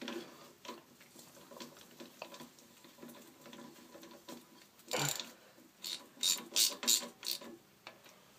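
Ratchet wrench clicking as head bolts are snugged down on an overhead-valve Briggs & Stratton small engine, a close series of short ratcheting bursts growing louder and busier toward the end, with no talking.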